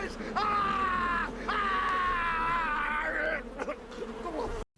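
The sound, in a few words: CGI bee swarm buzzing in the film The Wicker Man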